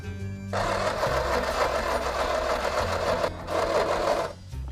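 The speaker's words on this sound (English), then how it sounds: "Give it a squirt with some easy start. Yeah. You give it a crank, let's see what happens." An engine primed with easy-start spray is cranked over during a rolling restoration: a loud, steady whirring starter runs for a few seconds, pauses briefly, then cranks again.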